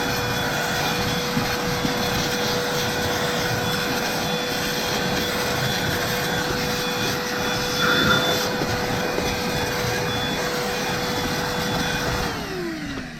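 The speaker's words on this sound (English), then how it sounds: "So let's go with the vacuum real quick." A vacuum cleaner runs steadily over a rubber car floor mat with a loud, constant whine and roar, then begins to wind down near the end.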